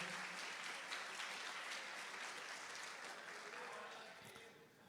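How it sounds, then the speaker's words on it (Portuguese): A church congregation claps hands together in a dense, sustained burst of applause that gradually fades toward the end. "Bate as palmas bem forte para Jesus, glorifica o Senhor."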